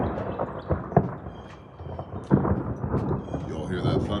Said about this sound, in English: Y'all hear that thunder?